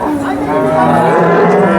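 A cow at the Sangola cattle market in Maharashtra gives one long, loud, steady moo close by, with faint crowd noise behind it.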